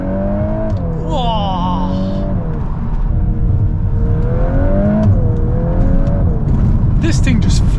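A Volkswagen Golf R MK8 on a wet road drops a gear and pulls hard, the engine note climbing through revs, easing, then rising again, loud inside the cabin, with a man exclaiming over it.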